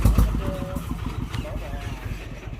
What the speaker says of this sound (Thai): นี่นะครับสูบเดียวนะครับ ไม่มีสี่สูบหกสูบปนเลยนะครับ นี่เครื่อง